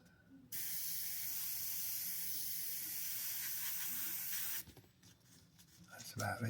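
An airbrush sprays Createx paint onto Blair synthetic paper in one steady, close hiss lasting about four seconds, then cuts off, leaving faint rustling and a few soft knocks.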